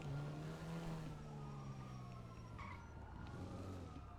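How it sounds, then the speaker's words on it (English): Police sirens wail faintly in the distance in the video game GTA, a steady sweeping tone under low engine noise with no talking. "I'm hearing sirens again."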